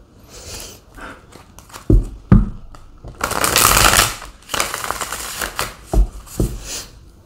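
A deck of tarot cards being shuffled in bursts, with sharp riffling and flutter swells plus a few soft taps and thumps of cards against a surface, close and fairly loud with no talking.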